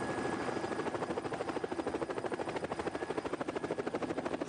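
A helicopter's rotor thuds in a steady, rapid chop, loud and continuous throughout with no voices, over a Giro d'Italia cycling stage.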